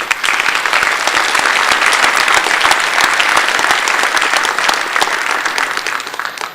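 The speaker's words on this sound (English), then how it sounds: "Could I have a round of applause for their hard work?" A conference plenary audience claps steadily in sustained, dense applause for a nominating committee, loud and continuous before easing slightly near the end.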